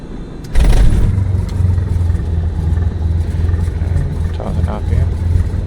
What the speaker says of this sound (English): and we can start up the engine